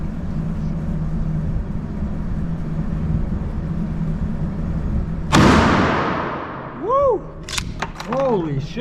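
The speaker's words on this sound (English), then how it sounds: "This would be my first time shooting a slug here." A Churchill shotgun fires a single slug: one loud, sharp blast partway through after steady background noise, with a ringing decay. Voices follow shortly after the shot.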